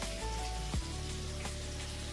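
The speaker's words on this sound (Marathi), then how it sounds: "आणि मी करतोय आपली मच्छी फ्राय" Bombil fish frying in a pan at home, a faint steady sizzle with a brief louder crackle near the start, no voices over it.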